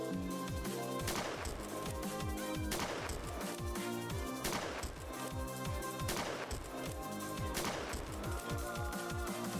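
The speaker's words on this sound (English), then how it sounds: "Five rifle rounds and then 5 shotgun shells to deal with Hugo." Rifle and shotgun fire in the horror game Fear and Hunger 2, a steady barrage of loud, close gunshots with heavier blasts recurring at regular intervals over continuous rattling fire.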